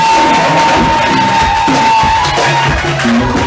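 Church congregation at an ordination ceremony cheering in acclamation, a dense continuous crowd roar with whoops and shouts, loud and sustained throughout.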